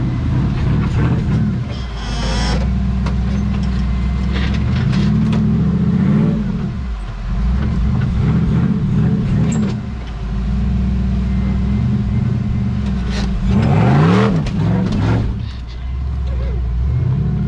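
A loud, throaty LS-powered off-road vehicle revs hard and holds high engine speed, rising and falling through several surges, heard up close at a Frontenac Farms off-road weekend in 2024.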